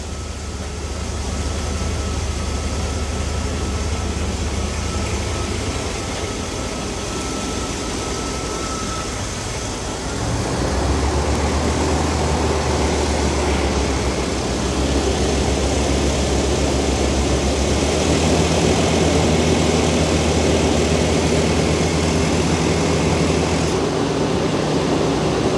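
A Rolls-Royce Silver Spirit III's engine runs and is revved up, a loud continuous mechanical roar that steps higher and fuller partway through and stays sustained near the listener with no talking.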